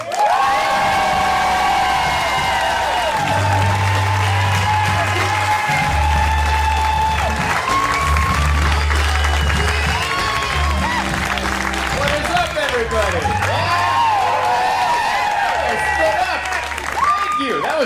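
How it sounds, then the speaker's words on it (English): A stand-up comedy audience claps and cheers steadily for a comedian arriving on stage, with whoops rising over dense, loud applause that carries on throughout. "That gentleman stood up and clapped for me."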